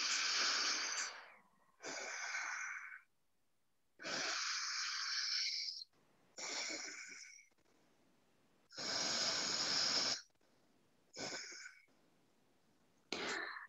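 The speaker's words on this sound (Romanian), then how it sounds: "Și respirăm doar pe nara dreaptă." Breaths are drawn and released through the right nostril only, loud airy nasal rushes in slow alternating in-and-out cycles with silent gaps between them, close to the listener.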